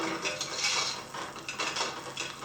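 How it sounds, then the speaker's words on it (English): A hand loom weaving cloth in the Plymouth carding mill at Greenfield Village gives off a continuous, moderately quiet wooden clatter with uneven rattling knocks. "That's the sound of the hand loom that is weaving cloth at this very minute."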